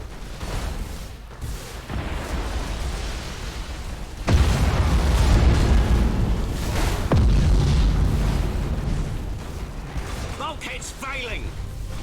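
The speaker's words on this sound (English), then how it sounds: "Imperial ship destroyed." A large Imperial warship explodes in the space strategy game Battlefleet Gothic Armada 2 as a loud, sustained boom with rumbling blasts layered over in-game voice lines.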